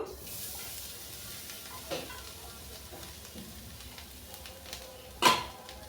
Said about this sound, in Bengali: এরপর আমি কড়াইয়ের মধ্যে নারকেল কড়াটা দিয়ে দেব